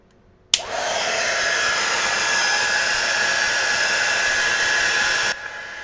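A heat dryer blasts grunge paste on a canvas, clicking on with a sudden whoosh into a loud, steady high-pitched whir held close for about five seconds before cutting off abruptly.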